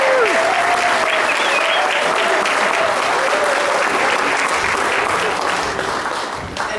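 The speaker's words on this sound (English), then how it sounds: "And now if you'll give them a round of applause." A church congregation gives a loud, sustained round of applause, dense clapping that holds steady for several seconds and fades slightly at the end.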